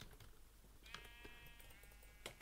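Minecraft sheep bleating in the video game, a single wavering bleat rising clearly over quiet background game noise and a few soft clicks, with no talking.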